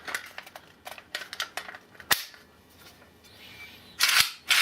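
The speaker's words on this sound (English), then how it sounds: "Load a magazine in just like this." A magazine is loaded into a Russian Saiga 7.62x39 sporter rifle, giving a series of sharp, close metallic clicks and clacks at an uneven pace, ending in a louder rattling snap.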